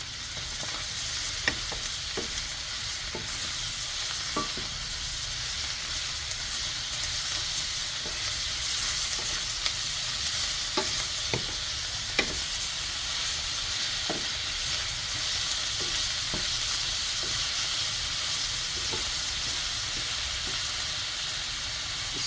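Callaloo cooking in a pot with a continuous steamy hiss and sizzle, broken by occasional sharp clicks and taps of a spoon against the pot, no talking.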